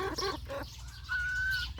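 Farm chickens that share duck feed cluck nearby in a few short, clear bursts, with no one speaking.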